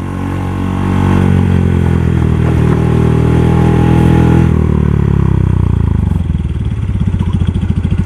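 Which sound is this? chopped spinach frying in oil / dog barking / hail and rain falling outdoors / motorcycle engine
motorcycle engine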